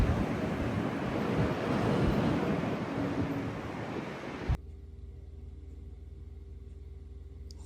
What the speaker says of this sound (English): we're getting absolutely hammered again with the wind